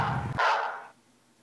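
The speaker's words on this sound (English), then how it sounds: "That was that barking that you just heard." A single short dog bark, a pet bull breed, rings out from the background and fades quickly, with nothing else around it.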